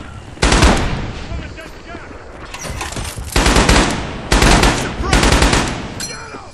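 A BAR automatic rifle fires in bursts in the World War II shooter Red Orchestra 2: Rising Storm on Saipan, with four or five loud, close, rapid strings of shots separated by short pauses.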